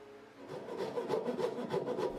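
Steady back-and-forth rasping of a hand saw cutting a skeg slot in a wooden boat hull, close up, with even strokes and no talking.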